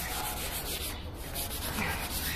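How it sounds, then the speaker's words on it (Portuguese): Sponge sanding pad rubbing over the bodywork of a classic boxy Volkswagen Gol during an outdoor backyard restoration, a steady, continuous close scraping hiss with no pauses. "E agora a gente está passando essa lixa com esponjinha para deixar o mais fino possível"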